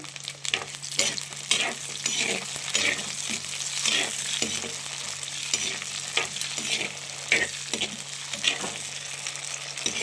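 Small shallots sizzle and fry in a pan after garlic, with a steady crackle broken by repeated scraping strokes of a spoon stirring them, close and fairly loud, with no one talking, all beneath a low steady hum.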